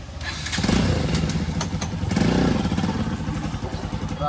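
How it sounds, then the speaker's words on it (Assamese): A modified KTM Duke 250 motorcycle engine revs up twice in loud, close surges, settling into a rough, pulsing idle between them, with faint voices in the background. "खतरनाक बाइक चलाई दिलो"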